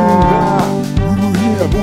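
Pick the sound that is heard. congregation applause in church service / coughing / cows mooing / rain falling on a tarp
cows mooing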